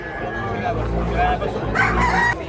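A rooster crows loudly at a busy Cebu poultry market, standing out over a constant crowd hubbub and background chatter, with another crow following later.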